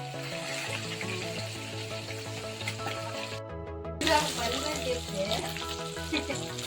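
Chicken legs frying in a pan, a close sizzle with stirring scrapes and a steady low hum, broken by a brief drop to near silence before the crackle resumes louder.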